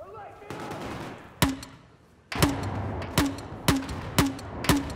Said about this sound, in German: So, einfach reinballern.